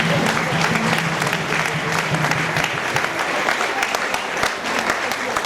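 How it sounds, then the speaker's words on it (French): Steady, dense applause from an audience at a priest's tenth ordination anniversary celebration, continuous and fairly loud throughout, with voices faintly mixed in beneath the clapping. "Sous vos applaudissements"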